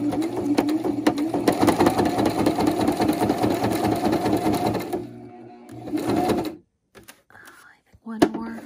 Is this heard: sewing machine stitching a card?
yes